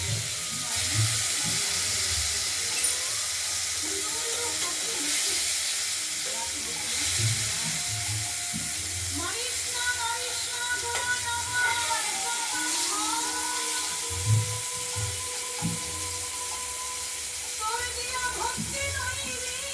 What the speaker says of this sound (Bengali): গরম হয়ে গেছে তেলটা মাছটা এবার আমরা ভেজে নেব